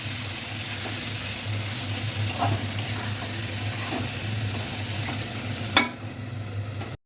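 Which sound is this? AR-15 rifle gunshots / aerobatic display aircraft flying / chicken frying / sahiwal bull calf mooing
chicken frying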